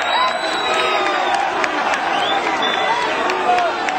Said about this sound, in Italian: Un applauso per Ira